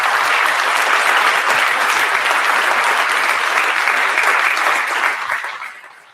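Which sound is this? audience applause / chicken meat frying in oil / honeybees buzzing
audience applause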